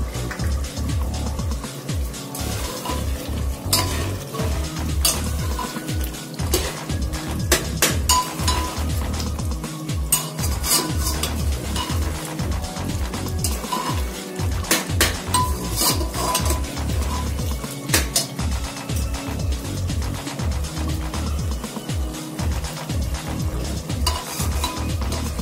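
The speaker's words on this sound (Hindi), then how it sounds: "तो देखिए स्टू हमारा अच्छे से भुन गया है, प्याज भी भुन गया ये और तेल भी छोड़ गया" A stew with onions and crushed dry-roasted fennel and coriander fries loudly in oil, with a constant close sizzle and a spoon repeatedly scraping and knocking against the pan as it is stirred.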